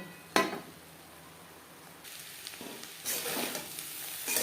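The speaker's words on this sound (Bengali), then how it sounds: "জারটা ধুয়ে সামান্য পরিমাণে জল মিডিয়াম ফ্লেমে চার পাঁচ মিনিট রান্না করে নেব" Bottle gourd peel and yardlong beans cook in a pan over a medium flame, a close sizzle in bursts with a sharp initial clatter and stirring swells.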